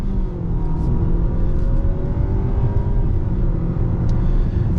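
Engine and road roar come from inside a 2025 Nissan Sentra SV accelerating at full throttle, a loud, steady low drone with the pitch rising gradually across a few seconds, no talking.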